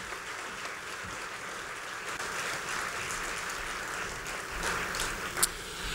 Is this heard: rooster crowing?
no